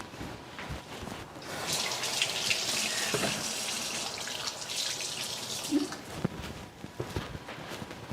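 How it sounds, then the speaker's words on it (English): Kitchen tap running steadily as hands are washed mid-way through making hot cross buns, a broad splashing hiss with small drips and splatters, fairly close. "I just need 2 seconds to just wash my hands real quick"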